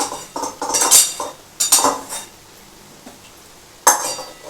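Metal spatula clanks and scrapes against a pan while fried rice is mixed with chopped omelette, several quick clattering strokes up close, a quiet pause, then one more sharp clank.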